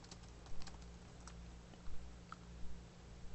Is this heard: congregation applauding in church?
no